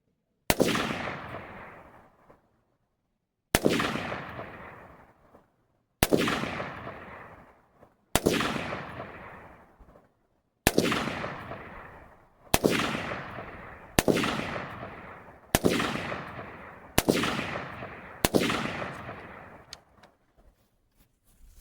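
Nine separate rifle shots from a PSA PA-15 M16A4 clone fired at a 25-yard range, each a sharp loud crack with a ringing decay, spaced a couple of seconds apart, with no talking.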